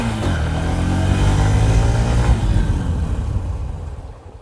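Honda SP125 motorcycle accelerating, its engine rumble rising steadily with a climbing tone, loud and close, then easing off toward the end with no talking.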